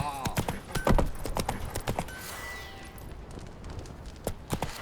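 Roach's hooves clip-clop in a steady rhythmic trot in The Witcher 3, clear and close, with speech partly overlapping the hoofbeats.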